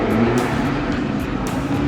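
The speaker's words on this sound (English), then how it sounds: "get back in the Mustang, go for some more skids" A 60-year-old Ford Mustang race car engine revs loud and close, a steady rough roar with brief surges and no voices.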